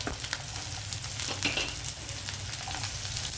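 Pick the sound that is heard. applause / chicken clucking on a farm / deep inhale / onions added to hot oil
onions added to hot oil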